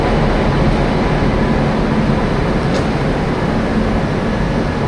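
A train on the Okha–Dwarka line in coastal Gujarat rolls in and comes to a stop, a steady loud rumble of wheels and carriage noise filling the whole stretch without a break.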